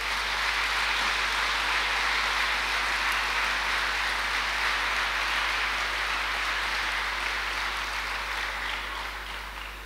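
Congregation at a church convention applauding, a broad, even roar of many hands clapping that holds steady and fairly far off for the whole stretch under a low hum.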